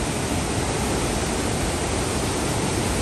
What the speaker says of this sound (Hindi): इतनी आवाज़ है इस वाटरफॉल में